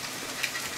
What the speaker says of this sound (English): Well, it's just about to stop raining.